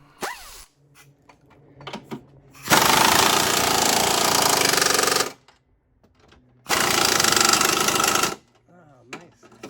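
Power tool tightening trailer hitch bolts on a Kia Sorento, two loud sustained bursts of impact rattling separated by quiet pauses with faint handling noises between.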